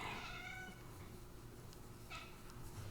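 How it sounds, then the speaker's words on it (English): A house cat meows at birds, a few plaintive meows heard fairly faintly against a quiet indoor room, with the clearest cry at the start and a shorter one later. "meowing at birds"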